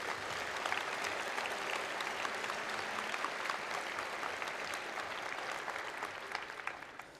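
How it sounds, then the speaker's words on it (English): Crowd applause at a Hawaii governor's inauguration ceremony, a sustained wash of many hands clapping from a large audience, steady and fairly even with no talk over it. "So a round of applause for you, Hawaii, for stepping up like that."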